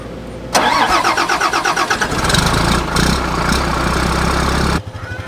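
An old four-wheeler, idle for about six months, cranks briefly with a rapid pulsing starter and catches into a loud, steady close idle that cuts off near the end.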